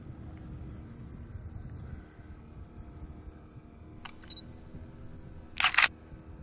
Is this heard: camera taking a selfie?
yes